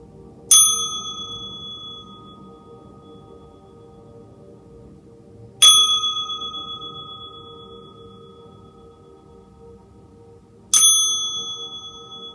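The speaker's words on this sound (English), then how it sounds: "I'm gonna do a little sound bowl here." A sound bowl is struck three times, about five seconds apart, each strike ringing out clearly and fading slowly over a quiet background.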